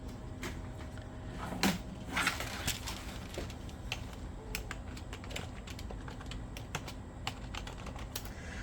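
Keys clicking on an IBM PS/2 Model 77 keyboard while a logon command is typed, a steady run of light taps over a low background hum, close and fairly quiet.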